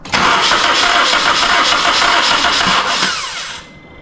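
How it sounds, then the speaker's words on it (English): Car engine cranking over repeatedly with the starter during a compression test, a steady rhythmic churning for about three and a half seconds at close range, then winding down and stopping; no talking. "we cranked it over a few times"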